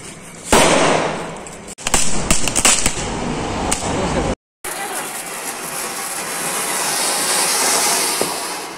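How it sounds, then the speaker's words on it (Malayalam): Green firecrackers burst and crackle during Diwali celebrations at homes, loud sharp bangs and rapid crackling packed into the first half, followed by a steadier hiss of sparklers or distant fireworks. "ഹരിതപടക്കങ്ങളാണ് കൂടുതലും ഉപയോഗിച്ചത്."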